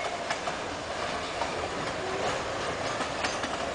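A long train of many wagons rolling along nearly century-old rails through a Brazilian town, a steady dense rumble with rhythmic clickety-clack wheel beats, close and loud throughout.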